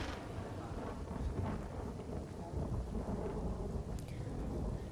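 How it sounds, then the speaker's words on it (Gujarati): Heavy downpour over Katkola village in Dwarka district, Gujarat: a dense, steady roar of rain with deep rumbling underneath, continuous and fairly distant, with no voices. "દ્વારકાના કાટકોલા ગામમાં ધોધમાર વરસાદ થયો"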